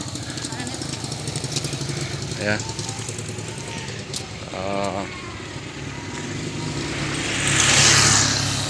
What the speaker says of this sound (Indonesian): Nah itu pulang ngarit itu pakai motor